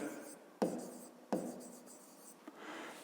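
Chalk or marker writing on a board during a 5th-grade maths lesson, with two sharp tapping strokes followed by softer scratchy scribbling, close and alone.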